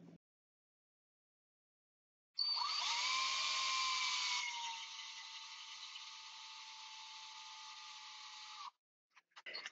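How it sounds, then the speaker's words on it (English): A small power drill with a 1/16-inch bit whines up to a high, steady pitch while boring a pilot hole, running for several seconds, then cuts off, with faint clicks afterward. "to make a pilot hole and use a"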